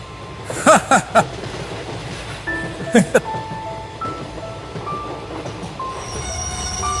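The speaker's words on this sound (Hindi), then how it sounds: "दोनों की बातें चलते चलते ट्रेन मोहनपुर स्टेशन पर आके रुकती है।" A train rolls along and pulls into a station in a Hindi cartoon horror story: rhythmic wheel clacks, then drawn-out squealing brake tones as it slows, with voices talking over it.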